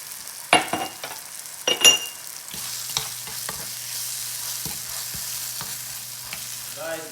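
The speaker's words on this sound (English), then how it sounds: "what we're doing now is cooking, more like frying the apples" Apples with sugar sizzle steadily as they fry in butter in a hot pan while a utensil scrapes and clatters against it several times, with a low hum underneath.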